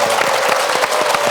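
A studio audience of older people on a Korean TV talk show claps briefly, a loud, close burst of many overlapping hand claps in quick uneven rhythm.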